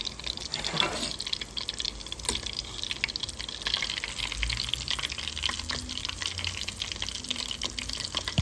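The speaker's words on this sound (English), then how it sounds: "make sure that you cook it slow and low in the oil" Cheese-stuffed Korean-style pork balls fry slowly in low-heat oil, a steady fine sizzle and crackle running throughout with occasional soft clinks and stirring bumps.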